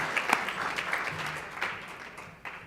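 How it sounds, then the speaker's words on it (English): An audience at a 2018 congressional awards luncheon gives awardees a final round of applause, a faint, thin patter of clapping that tapers off over a few seconds. "Let's give her one final round of applause to all the awardees this year"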